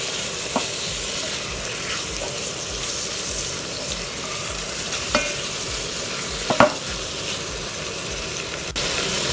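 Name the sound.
stirring and frying mushroom and tomato mix in pan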